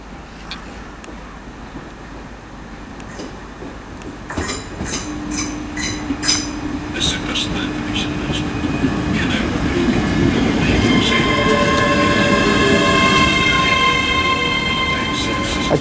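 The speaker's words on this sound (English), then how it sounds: "train pulling in now is going to be a terminating service from Falkirk Graveston" A Class 385 train terminating from Falkirk Grahamston rolls into Dunblane station with a rising rumble, wheels clacking and squealing as it draws closer, growing steadily louder toward the end.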